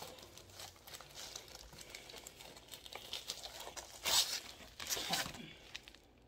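A small box cutter slices through packaging for mystery diamond painting kits, giving soft crinkling, tearing and scraping, with sharper rips near the end, all close and fairly quiet.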